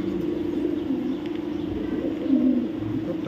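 A pigeon of a fancy breed coos in low, soft, repeated purrs, close and steady, with a brief louder swell near the end over faint background noise.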